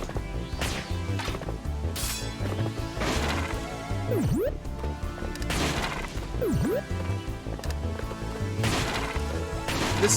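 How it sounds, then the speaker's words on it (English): Pac-Man smashing wooden treasure chests in the Pac-Man World Re-Pac video game: repeated loud cracking smashes and thwacks over busy game music, with swooping effects between hits. "Instead of smashing bricks, I smash treasure chests."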